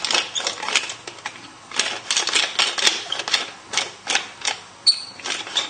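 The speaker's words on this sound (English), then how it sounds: "I think I need to get a new pepper grinder." A pepper grinder being twisted in a kitchen while cooking, giving a run of dry, crisp grinding clicks in short repeated bursts, close and fairly loud, with no talk.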